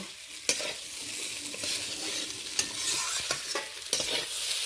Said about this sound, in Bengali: লঙ্কা গুঁড়োটা যেহেতু আমি পরে দিয়েছি ওই জন্য বেশ কয়েকবার ভালো করে নেড়ে নিলাম